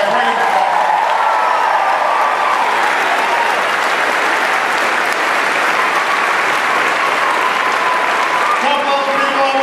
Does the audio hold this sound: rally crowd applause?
yes